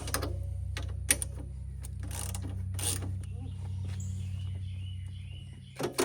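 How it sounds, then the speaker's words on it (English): A ratchet works loose the top rear shock bolts on a Kawasaki Brute Force 750 ATV, with scattered close clicks over a steady low hum in a workshop. "Let's go ahead and remove our top shock bolts."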